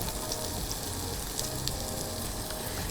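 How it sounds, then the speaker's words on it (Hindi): Finely chopped garlic sizzling in butter and oil in a pan, a steady close crackling hiss that runs unbroken throughout. "इसको ज़रा लहसुन को हम बटर में ना थोड़ा सा टॉस करेंगे"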